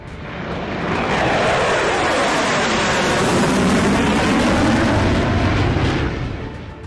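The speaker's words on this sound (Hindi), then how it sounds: "इजरायल की सेना ने इस ऑपरेशन में शामिल लड़ाकू विमानों की उड़ान की फुटेज भी जारी किए है" Israeli fighter jets roaring overhead, a loud continuous engine rumble and whoosh that swells in and holds at full strength before easing slightly, with no voices.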